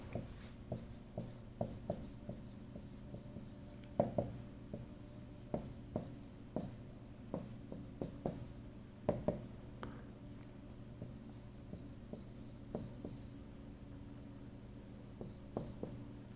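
Chalk or marker taps and strokes on a board as an equation is written during a physics lecture on inductance; a steady run of short, light scratches and clicks, close but faint, with a soft background hum.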